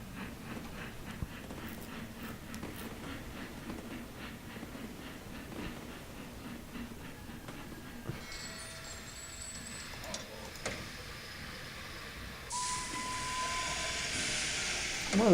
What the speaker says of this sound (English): This train is so slow.